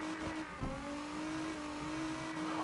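Steady engine drone of a car being driven in the drifting game CarX, a constant near hum with a faint rev swell, no talk over it.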